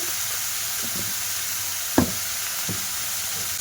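Chicken mince frying in a pan for a chicken roll filling, a soft steady sizzle with a few stirring knocks and one sharp tap of utensil on the pan.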